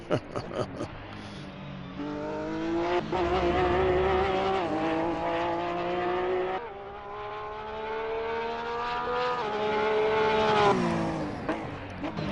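Porsche GT3R race car in Assetto Corsa, engine droning loud and steady with rising revs and gear changes, briefly dropping off mid-run before climbing again.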